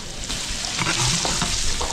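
Garlic and onion sauté in melted butter in a pan for a spaghetti sauce, giving a loud, continuous crackling sizzle with faint scraping from stirring.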